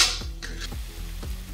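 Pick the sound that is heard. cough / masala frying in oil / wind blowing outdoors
masala frying in oil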